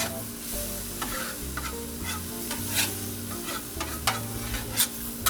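Onions sizzle steadily on a Blackstone griddle while a spatula stirs and scrapes them in quick, close clicks and scrapes.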